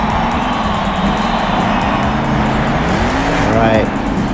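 Engine roar from a monster truck in Monster Jam Steel Titans, revving continuously and rising in pitch as it rides over a row of wheels, with a brief tire squeal near the end.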